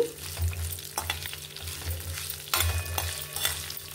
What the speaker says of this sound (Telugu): ఇప్పుడు ఇవన్నీ బాగా ఫ్రై అవ్వాలి.